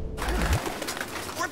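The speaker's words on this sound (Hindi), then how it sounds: "कबूतर" Pigeons coo inside the video game Detroit: Become Human, a short low, throaty warble heard close amid a busy, noisy game background.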